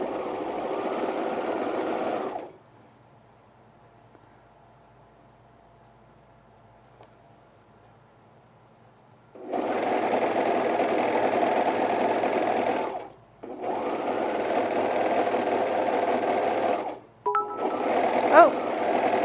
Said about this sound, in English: I'm gonna do an exposed cover stitch on the hems as well